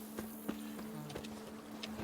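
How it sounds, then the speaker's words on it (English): A horse's hooves clip-clop at a walking pace in The Witcher 3, several evenly spaced faint thuds over a low, steady hum. "Roach is not a decent horse"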